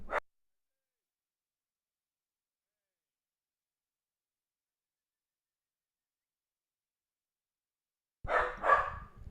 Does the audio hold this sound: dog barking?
yes